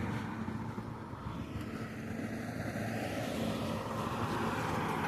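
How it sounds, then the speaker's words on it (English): A car with engine trouble passes a pedestrian walking home at night, its rough, low engine drone swelling and fading at moderate distance over steady street noise. "That car's got some issues."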